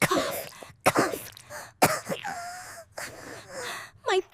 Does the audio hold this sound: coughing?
yes